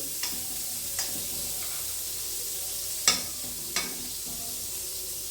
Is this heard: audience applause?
no